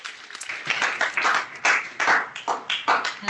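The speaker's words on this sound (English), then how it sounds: "Can everyone give a round of applause for President Crow and ASU administration?" Audience applause breaks out after a student town hall forum with a university president and administration, a short burst of clapping from a crowd in a hall that stays fairly even and then tapers, with no speech over it.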